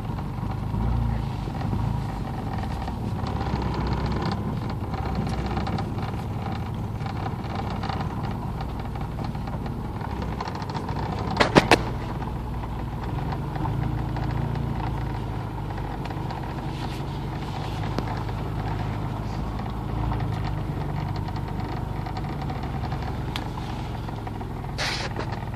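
A Porsche 944 engine, unused for ten years, runs roughly with an uneven, sputtering low rumble that holds steady throughout, one sharp knock partway, no talk.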